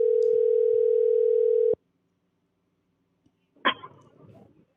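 A steady, loud telephone dial tone holds for almost two seconds, then cuts off sharply, followed by silence and a burst of faint rustling and voice as a caller is connected into a live call-in show.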